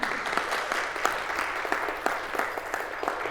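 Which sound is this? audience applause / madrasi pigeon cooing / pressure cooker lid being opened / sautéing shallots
audience applause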